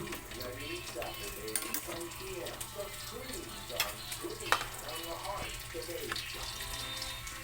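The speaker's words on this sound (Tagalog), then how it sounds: "Ilalagigisa na tayo ng bawang." Garlic sautéing in a pan for chicken adobo with pineapple makes a soft, continuous sizzle with scattered clicks and scraping stirs, with running water nearby.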